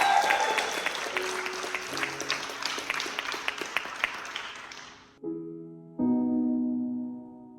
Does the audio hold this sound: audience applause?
yes